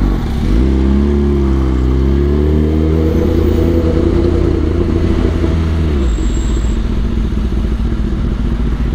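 A motorcycle ridden with traction control switched off revs hard, its engine note climbing steadily before cutting back abruptly, loud and close under constant wind rush.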